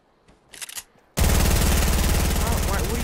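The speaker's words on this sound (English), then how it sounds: "what are you shooting at? That thing is loud as hell." Rapid automatic gunfire from a video game bursts in loud and sustained after a short quiet stretch with faint clicks, a continuous rattling barrage running to the end.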